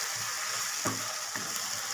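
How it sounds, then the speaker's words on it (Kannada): Tomatoes with a pinch of salt frying over a medium flame for a bottle gourd curry, a steady close sizzle with a couple of brief stirring scrapes, no voices. "ಈಗ ಇದನ್ನು ಒಂದು 2 ನಿಮಿಷ ಮೀಡಿಯಮ್ ಫ್ಲೇಮಲ್ಲಿ ಫ್ರೈ ಮಾಡ್ಕೊಳ್ಳೋಣ."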